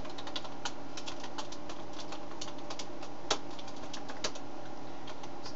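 Steady rapid typing on a computer keyboard that is acting up, a dense run of small clicks with a couple of sharper key strikes standing out, close by, with no speech.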